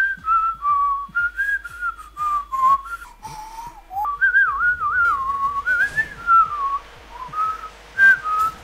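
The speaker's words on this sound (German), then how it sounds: "Ich kann euch in der Zwischenzeit ein lustiges Liedchen pfeifen." A person whistles a playful, wandering little melody alone, close and clear, with short bright phrases and brief pauses over about nine seconds, plus a few faint background clicks.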